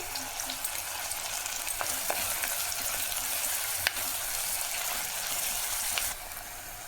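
Vegetables and curry leaves fry in a pan for foxtail millet upma, a steady close sizzle with sporadic spatter pops and stirring clicks, easing off slightly in the final moment.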